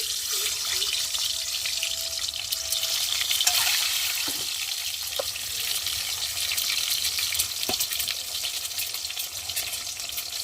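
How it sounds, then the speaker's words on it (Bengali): Eggs frying in hot oil in a wok give a steady, close sizzling hiss with a few light stirring clicks, and no one speaks. "এখন এই যে ডিমগুলো দিয়ে ভালো করে ভেজে নেব"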